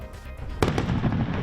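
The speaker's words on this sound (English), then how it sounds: "tonight, city leaders tested some fireworks at the new location" Test fireworks launched by city leaders at a new location ahead of a 4th of July show, a single sharp bang followed by crackling rumble and ringing echo, heard outdoors at moderate distance.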